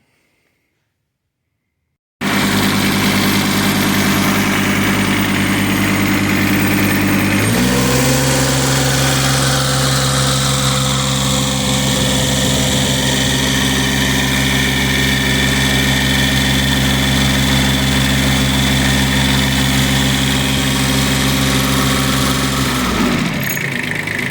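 A Kubota B6200 compact tractor's diesel engine cranks and catches after a short silence, then runs steadily and loudly close by, with a drop to a lower, even idle partway through that holds until it shuts off near the end.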